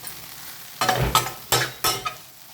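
Food being stirred and fried in a pan, with four distinct scraping, sizzling bursts after a quiet start, close and fairly loud.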